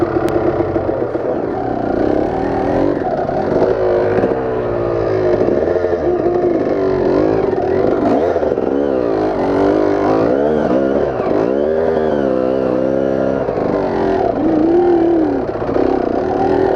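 A dirt bike engine runs loud and close for the whole stretch, its pitch rising and falling in repeated rev sweeps over a rough, steady drone.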